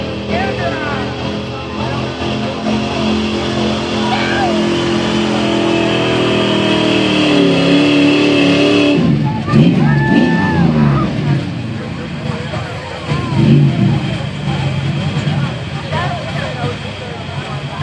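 A 2005 Chevy truck in a hot street gas truck pull roars with a loud, sustained engine drone that climbs in pitch and then surges. An announcer talks over it the whole time.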